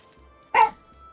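A single short bark from a dog named Lily, one sharp yip over a quiet indoor background, moderately close and not loud.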